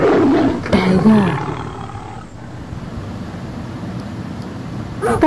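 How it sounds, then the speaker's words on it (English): A tiger roars once, loud and close, a deep rumbling roar that fades into a low, breathy growl. "Tiger."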